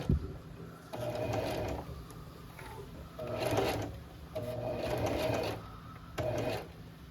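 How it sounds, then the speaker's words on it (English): A sewing machine stitches a fabric mug cozy in several separate bursts of close, rapid whirring, with short quiet pauses between runs. "And then sew all the way until you get to the other mark and make sure you backstitch."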